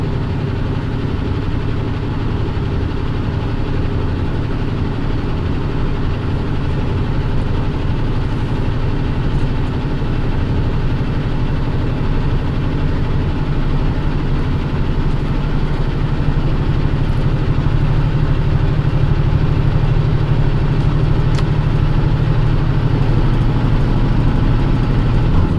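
A truck engine drones steadily at high revs, a loud, unbroken low rumble that continues from start to finish with no pauses.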